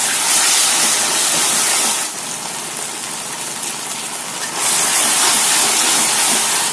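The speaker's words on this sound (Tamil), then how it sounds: "கொஞ்சம் லைட்டாக தண்ணி ஊற்றிங்க, அடி பிடிக்காம." Water hits hot frying masala of ginger garlic paste in a pan, producing a loud, close, continuous hissing gush of steam that eases briefly in the middle and then surges again, with no speech.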